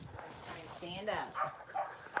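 A dog on a farm yips and whimpers in short bursts close by, mixed with excited human voices talking over it.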